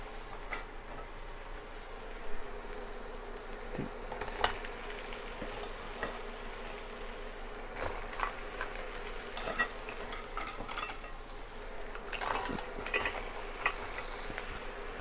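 Garlic frying in oil for crab curry, a continuous soft sizzling hiss with faint crackles and small pops scattered through it, steady and fairly quiet.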